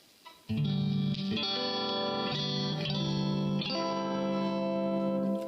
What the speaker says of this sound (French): le crunch, ça commence légèrement à grésiller, ça commence à avoir un peu de satu